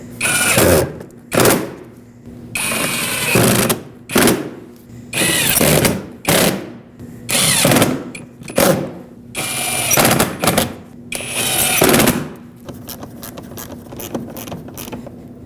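Bursts of ratcheting and whirring ring out as 7mm-headed screws are driven back in on the upper radiator support of a 2013–2019 Ford Escape. About a dozen short, loud runs come close together, separated by brief pauses.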